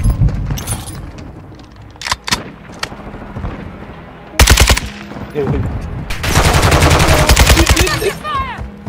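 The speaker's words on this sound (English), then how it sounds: "Taking enemy fire!" Loud gunfire in a first-person shooter video game: several sharp single shots, then sustained automatic bursts later on, with a voice talking over the action.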